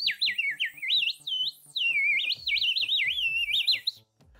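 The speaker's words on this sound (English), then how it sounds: "this particular chirping bird whistle seems to be the easiest to print and the most likely to work" A 3D printed chirping bird whistle is blown in rapid warbling, trilling chirps that rise and fall like birdsong, bright and fairly close, running continuously for a few seconds before stopping.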